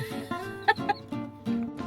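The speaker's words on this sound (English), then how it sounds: "I swear I saw chickens." Several chickens cluck nearby in short, uneven bursts, a few sharper squawks standing out over a low murmur of the flock.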